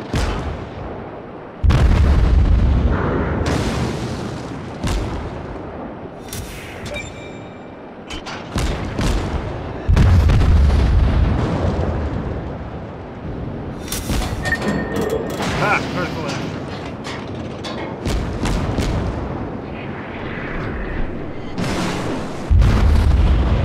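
Naval gunfire in World of Warships: repeated heavy booming cannon blasts and explosions spaced through a battle, loud and close, with game sounds and a voice talking in between.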